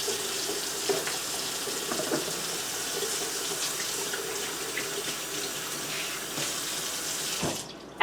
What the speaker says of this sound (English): why don't we wash our hands first